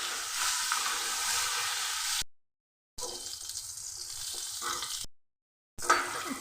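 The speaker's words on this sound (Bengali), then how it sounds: "পটল তেলের মধ্যে আমি ছেড়ে দিচ্ছি। দিয়ে দিচ্ছি হলুদ, আর দিয়ে দিচ্ছি লবণ। পটল লাল করে ভেজে নিতে হবে।" Pieces of pointed gourd frying in hot oil with turmeric and salt, a bright continuous sizzle broken by two short silent gaps, with faint stirring scrapes in between.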